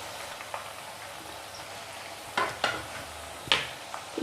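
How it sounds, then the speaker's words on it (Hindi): Banana chips frying in oil over a medium flame, a steady soft sizzle with scattered louder pops and clatters from stirring, close by, no talk. "अब इसे हम मीडियम फ्लेम पे फ्राई करेंगे।"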